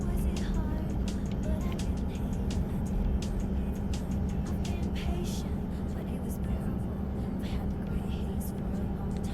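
Continuous engine drone of a truck rolling down the road in a downscaled driving video game, low and steady throughout with soft speech-like murmurs and faint ticks over it.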